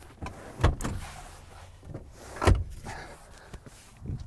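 Middle seat row of a Land Rover Discovery Sport sliding forward in the cabin, two distinct clunks with a short mechanical rattle between them, close and fairly loud against a quiet interior.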